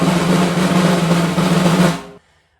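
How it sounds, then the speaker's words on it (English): A buzz roll, or press roll, played on a snare drum: a dense, sustained, even rattle of pressed strokes lasting about two seconds at steady loudness before stopping abruptly, heard alone and up close. "The rudiment for this week is going to be the buzz roll, also called a press roll."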